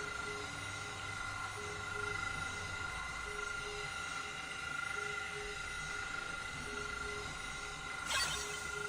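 A train rolls along in Zenless Zone Zero, a steady droning rumble with sustained metallic tones and a brief rattling burst near the end, no voices.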